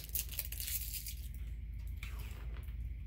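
Tape torn off a roll during a sublimation drinkware project, a brief close ripping and crinkling burst that settles into a faint low hum, with no talk.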